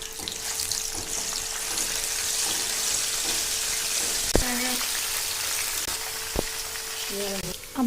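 Papads fry in hot oil in a kadai, a steady crackling sizzle broken by a few sharp clinks and knocks of utensils near the end, with no voices heard.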